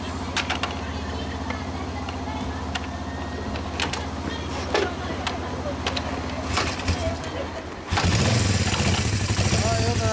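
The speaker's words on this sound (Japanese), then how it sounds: "エンジン音聞かせてもらえますか" A 1978 Yamaha GX250 Special café racer idles with a steady low rumble, then revs up sharply into a loud, rough roar near the end, with people talking nearby.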